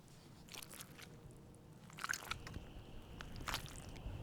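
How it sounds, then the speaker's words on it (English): Slow footsteps squelch and crunch on wet, spongy wetland ground in Shelby Bottoms Park, Tennessee, faint and close, with soft wet squishes every second or so. "It feels like I'm walking on a sponge, squeezing water from the ground with every step."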